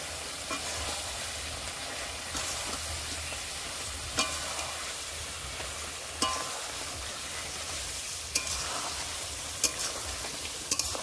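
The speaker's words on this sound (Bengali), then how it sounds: "ধনের গুঁড়ো, জিরের গুঁড়ো, এবার ভালো করে কষে নেব" Ground coriander and cumin sautéing in a pan for chicken curry, a steady close sizzle with a few sharp scrapes of a spoon against the pan, no voices.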